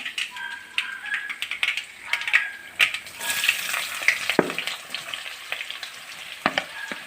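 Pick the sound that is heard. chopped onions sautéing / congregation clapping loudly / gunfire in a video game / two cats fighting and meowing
chopped onions sautéing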